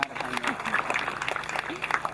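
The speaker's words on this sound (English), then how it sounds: "Let's give a big hand clap for that prayer" A graduation ceremony crowd claps after a prayer, a faint, scattered patter of hands spreading through a large gathering while voices murmur over it.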